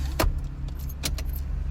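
Car keys jangle sharply as a key is worked into a car ignition during a driving lesson, a few bright metallic clicks and rattles over a low idle hum inside the vehicle.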